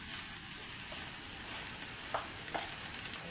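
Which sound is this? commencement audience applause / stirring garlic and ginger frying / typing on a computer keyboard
stirring garlic and ginger frying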